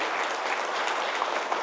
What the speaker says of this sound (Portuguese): Dê um forte aplauso para nosso Senhor.